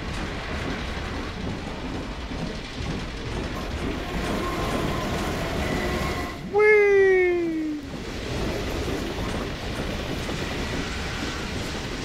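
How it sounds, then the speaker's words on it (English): A very loud train rolls by in the Half-Life 2 video game, a broad roaring rumble with a sharp descending screech rising out of it partway through before the steady noise carries on. "Very loud. Very loud train."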